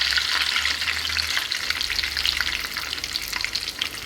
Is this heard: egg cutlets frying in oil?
yes